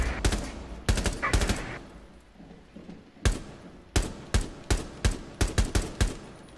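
Video game gunfire in a ranked multiplayer match, sharp loud single shots in irregular clusters, close and punchy with quieter gaps between.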